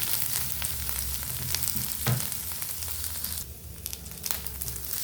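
Boiled jowar (sorghum) grains fry in a tempering of onions and curry leaves, giving a steady, fairly quiet sizzle with occasional stirring scrapes and crackles throughout.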